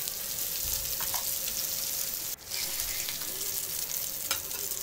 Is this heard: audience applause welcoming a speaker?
no